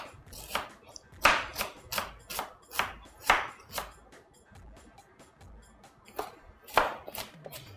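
Onion chopped with a knife on a cutting board while making ful with tomato sauce and vegetables, giving a run of sharp, close taps in uneven bursts with short pauses between them.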